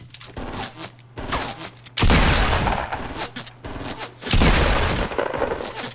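Loud explosive blasts and rapid gunfire from a Fortnite Battle Royale match burst out close, with two heavy booming hits amid choppy bursts of shots.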